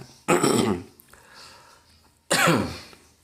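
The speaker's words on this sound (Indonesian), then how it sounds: "Sedikit batuk ini." Two sharp, harsh coughs ring out close by, separated by about two seconds of quiet with a faint murmur between them.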